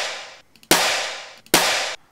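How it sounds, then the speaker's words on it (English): Original slappy snare drum sample drenched in heavy reverb: two sharp, loud hits, each trailing off into a long washy tail, with the fading tail of an earlier hit at the start. "So I found a slappy snare, our snare, and I took it."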